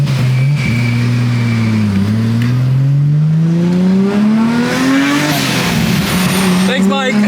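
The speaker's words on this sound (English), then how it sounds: "It's been the first time I've been driving this car in a while" A car engine revs and accelerates up through the gears while cruising in fine weather, after a spark plug fix, with a steady loud rising drone and a gear change partway through, heard from inside the cabin.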